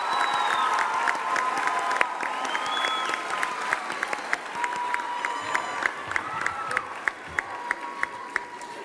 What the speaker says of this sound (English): Let's give our students in the choir another round of applause,